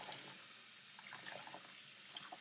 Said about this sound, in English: I'll just be thoroughly rinsing this out